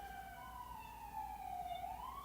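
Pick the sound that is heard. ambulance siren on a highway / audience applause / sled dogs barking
ambulance siren on a highway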